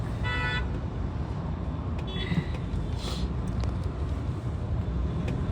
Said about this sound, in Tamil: பயங்கர டிராஃபிக்